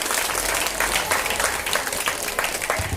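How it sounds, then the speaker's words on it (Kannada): An audience at a ceremony for a government school in a Lambani hamlet claps for the teachers. Dense, steady applause fills the whole stretch at close range, with no voices over it. "ನಿಜವಾಗ್ಲೂ ಆ ಶಿಕ್ಷಕರಿಗೆ ಚಪ್ಪಾಳೆ ಬೇಕು."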